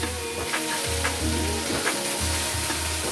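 Coriander seeds, cumin and fenugreek seeds roasting in hot mustard oil in a kadhai, a steady close sizzle and crackle with a few soft scraping stirs, no voices.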